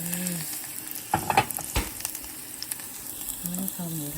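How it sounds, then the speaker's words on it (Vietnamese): Garlic sizzles in hot oil in a pot, a steady frying hiss running throughout with a few sharp crackles and stirring knocks partway through, close and fairly loud. "Em đổ dầu với nồi nè, với tỏi nè, mình đợi cho nó thơm lên nha cả nhà."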